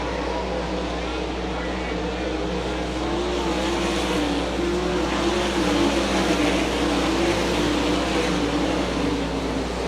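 World of Outlaws sprint cars race on a dirt track at Hartford, Ohio, their engines a steady, loud droning roar that rises and falls slightly as the pack circles, with a deep low rumble underneath.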